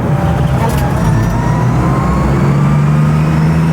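A 1984 Toyota Celica converted to electric drive pulls hard in second gear, its motor whine rising steadily over loud road and wind rumble inside the cabin.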